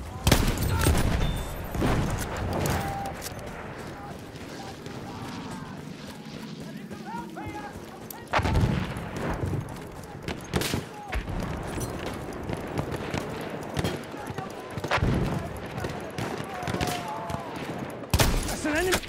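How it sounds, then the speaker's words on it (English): Enemy machine gun fire in Battlefield 1 on the Sinai map with an A7V tank, loud rapid bursts and scattered gunshots in repeated volleys, with voices talking over the battle. "Enemy machine gun sighted!"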